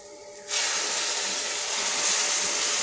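Boiled milk poured into hot, reddish-brown roasted semolina for sheera sets off a sudden loud, steady sizzling hiss that holds for a few seconds without a break.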